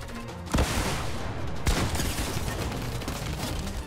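A rocket launcher fires in a video game, giving two heavy, booming blasts about a second apart over a steady, loud roar of battle noise that continues throughout.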